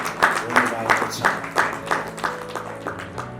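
Applause at a church wedding in Koinonia Patan Church, Nepal, heard as a steady pulse of rhythmic group clapping under someone speaking.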